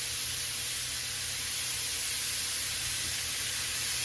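Meat sizzling in a hot skillet, a steady broad hiss that holds at an even level from start to finish with no talk over it.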